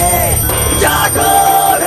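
A ringing, warbling electronic alarm tone pulses loudly and continuously, its bright repeated bursts layered over a dense background.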